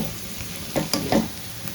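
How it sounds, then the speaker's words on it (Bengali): Potatoes fry in a pan for crispy aloo bhaja while a utensil stirs them, giving a steady close sizzle with a few louder scraping stirs; nobody speaks. "প্রায় কিন্তু হয়ে এসেছে আমার আলু ভাজা।"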